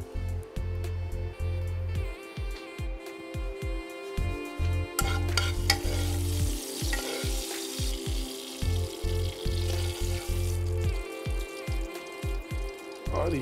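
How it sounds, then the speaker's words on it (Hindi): Red chili goes into hot tempering oil for spiced yogurt, giving a loud, close, continuous crackling sizzle with stirring clatter, bursts of spitting and a steady hiss, and no talking. "इंडक्शन करते हैं बंद, इसमें डालते हैं थोड़ी सी लाल मिर्च फॉर रंग"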